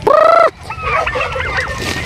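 Bourbon Red turkeys in their pen give a loud, close gobbling call, followed by softer clucks and chatter from the flock.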